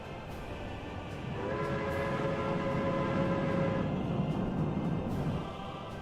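A freight oil train in the city-building game Workers and Resources rolls along with a steady rumble, while a sustained horn-like tone swells over it for a few seconds before fading.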